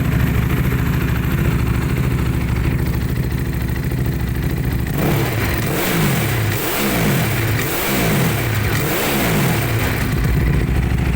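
A 2015 Ducati Hypermotard 821 with a loud aftermarket Arrow exhaust idles with a deep rumble, then revs repeatedly in sharp, throaty bursts, close and loud.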